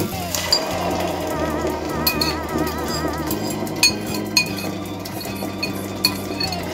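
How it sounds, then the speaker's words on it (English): Repeated sharp metallic clinks and scrapes as canned mackerel is tipped from the tin into a cooking pot on the fire, close and bright over steady background music. "I'll now add my mackerel to the pot"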